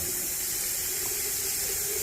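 Hot water running from a tap to rinse slimy coleus cuttings, a steady close hiss of flow over a sink with no voices.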